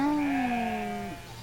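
A single sheep gives a long, wavering bleat, close and clear, sliding downward in pitch before trailing off.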